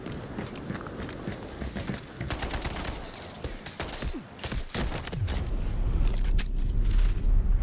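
Dense rapid gunfire in the Delta Force video game, loud overlapping bursts of automatic fire with scattered cracks, continuing and building in intensity throughout.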